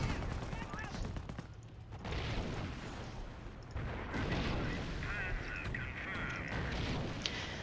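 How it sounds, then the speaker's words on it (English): Artillery shelling from a battery of guns in Company of Heroes, a steady barrage of rumbling blasts and bursts that runs through the whole stretch at a loud, dense level. "I've got 5 artillery guns right now to kind of shell the enemy into submission"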